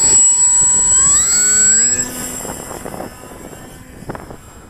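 The electric motor of an iNav model airplane spins up to a loud, rising whine with climbing tones, then drops away, leaving softer mechanical rattles and a faint steady high tone.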